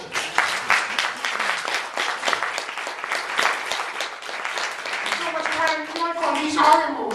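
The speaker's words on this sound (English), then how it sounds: "Let's clap for that." An audience clapping during a September 11 talk by a speaker, a lively patter of hands with young voices mixed in, tapering as children's talk and humming voices rise toward the end.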